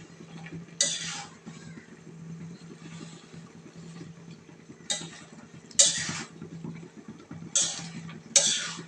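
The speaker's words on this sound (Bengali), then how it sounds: "শাকগুলা দিয়ে হালকা একটু নাড়াচাড়া করলো নাড়াচাড়া করতেছে" Spinach is stirred in a cooking pot, with soft scraping and occasional sharp metallic clinks of a utensil against the pot every second or so over a low steady background hum.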